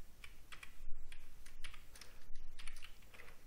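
Steady, soft clicking of keys on a computer keyboard, a quick run of light taps close by in a quiet room.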